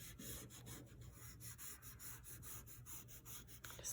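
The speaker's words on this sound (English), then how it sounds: "The first thing I want to do is smooth out my border." Smoothing a chalk pastel border makes a soft, close rubbing sound in rapid, even back-and-forth strokes, about fifteen quick swipes in steady rhythm, quiet, with no talk.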